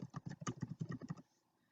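Rapid burst of computer keyboard typing, about a dozen close, crisp keystrokes in quick succession that stop abruptly, leaving near silence.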